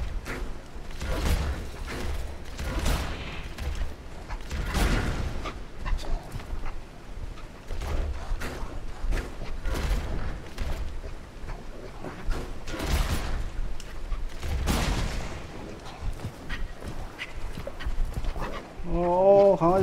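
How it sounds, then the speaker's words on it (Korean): Several dogs in the action-adventure video game Hob, barking and yelping in scattered bursts with panting between them, over a steady game background. "강아지 왜 이렇게 많아?"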